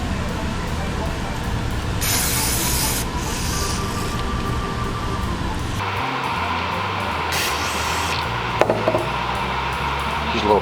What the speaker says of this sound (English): Use a little piece of Scotch-Brite pad.